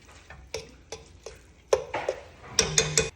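Chicken enchilada filling is stirred in a pan. A spoon scrapes and knocks against the pan in irregular, fairly quiet strokes, with a cluster of sharper clinks near the end and no talking.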